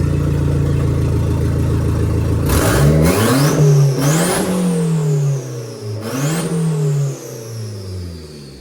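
Turbocharged engine of a 1998 Mitsubishi Eclipse revving hard several times, rising to sharp high-pitched peaks and falling back between blips after a steady idle, loud and close with no talking.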